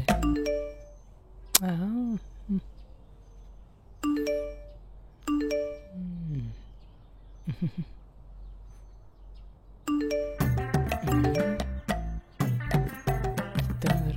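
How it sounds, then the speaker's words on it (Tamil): A mobile phone rings with a melodic, chiming ringtone. It plays in short gliding phrases with pauses, then turns denser and more rapid near the end, clear and close. "இவ ஃபோன் ஆச்சே."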